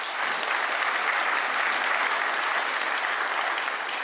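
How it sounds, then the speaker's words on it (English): Conference audience applauding a speaker named Emily at a monitoring tech event, a dense, even wash of many hands clapping continuously at moderate volume. "let's give another big round of applause for Emily"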